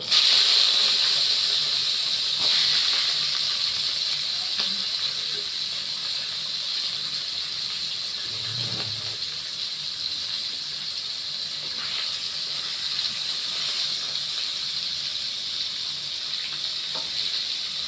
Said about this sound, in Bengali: মাথা দুটো আমি আগে ভেজে তুলে নিই